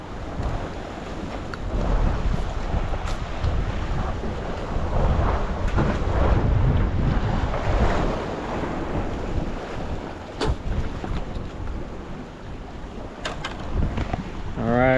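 Ocean waves washing against the Seal Beach jetty as the tide rises, a broad continuous surf rumble mixed with heavy wind buffeting on the microphone, with a few faint sharper splashes and no clear speech.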